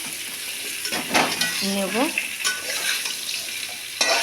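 Eggplant and potato pieces stirred in hot oil in a pan give a close, steady sizzle with scraping stir strokes, and a brief voice speaks over it.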